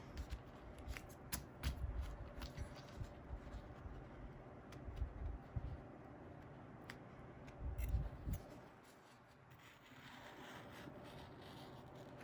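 Scissors snip through the fabric of an in-the-hoop satchel bag, a run of close, crisp cutting and rustling sounds, followed by quieter handling noise.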